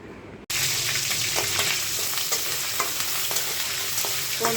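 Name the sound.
shrimp frying in oil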